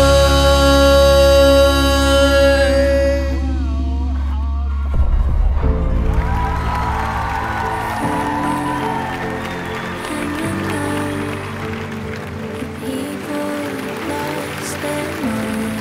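At a Rap Việt 2024 televised rap show, loud music ends abruptly and gives way to a broad roar of audience cheering and applause. Softer backing music continues underneath.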